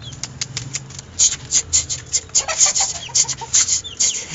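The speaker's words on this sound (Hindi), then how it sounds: "ये देखो ये मेरा एक मुर्गा निकल रहा है" Rooster on a farm, heard as a string of short, fairly close clucks and wing flutters against steady outdoor background noise, with no talking.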